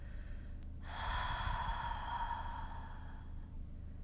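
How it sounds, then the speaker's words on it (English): A single big open-mouth exhale during yoga breathing, a long, soft breathy rush lasting a couple of seconds in a quiet room. "Big open mouth exhale"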